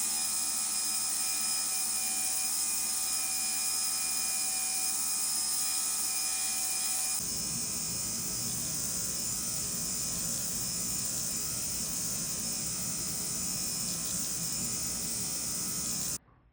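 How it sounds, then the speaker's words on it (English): A jewelry polishing machine works over a diamond ring whose stones have just been set, giving a steady high motorized whine that shifts to a rougher, denser grind partway through before cutting off at the end. "We're going to start the polishing process"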